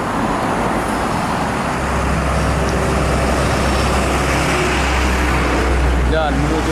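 An ANS bus travels along a road cut through a hillside, its engine a steady, loud roar mixed with broader traffic noise over the whole stretch, rising toward the end as it draws closer.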